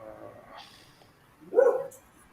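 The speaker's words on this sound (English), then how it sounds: "Sorry about the dog, guys." A dog barks indoors in a home: one soft yelp and then a single louder, sharper bark close by, with quiet room noise around it and no talk.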